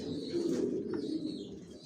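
A low, soft coo from a red checker racing pigeon sitting on eggs in a loft rolls on continuously through the short clip, close and steady, with no talking.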